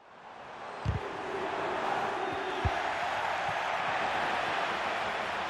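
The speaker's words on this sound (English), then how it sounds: "The crowd urging him to shoot." A stadium crowd in the FC25 football video game builds into a sustained, rising roar, urging a Sampdoria player to shoot, with a couple of dull thumps near the start.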